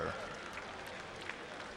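Applause from a crowd at a county fair for a Junior Prince, a faint, distant, even spread of clapping with no voice over it.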